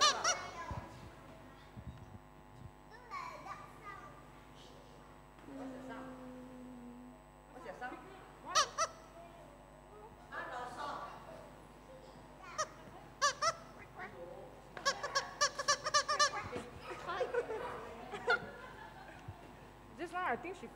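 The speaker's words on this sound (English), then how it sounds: "A screaming chicken." A toy screaming chicken squawks in repeated honking, goose-like bursts through a home church session, with voices talking in between.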